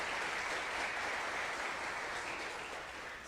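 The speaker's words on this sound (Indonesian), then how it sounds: "kita sambut, kita beri aplaus kepada Pak Lo Keng Hong" An audience applauds at an investment talk in Indonesia, a dense, steady wash of clapping from many hands that holds strong for several seconds before easing slightly.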